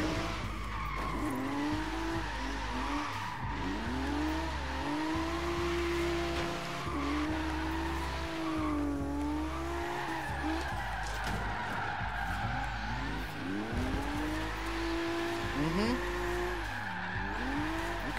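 A Lexus SC300 drifts in Forza Horizon 3, its engine revving and falling with long, wavering tire squeals, loud and continuous throughout, while someone talks over the driving.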